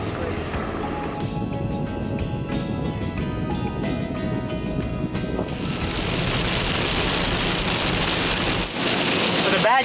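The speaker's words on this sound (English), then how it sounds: "it looks like we've hit some sort of rainy patch, summer rainstorm." Summer rainstorm in central Mongolia, a dense steady hiss of rain pattering on surfaces that grows heavier and brighter partway through, with a continuous background of mixed noise.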